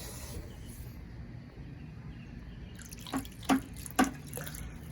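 Three or four distinct water drips plink one after another near the end from a leaking fixture, over a low steady background hiss of running water.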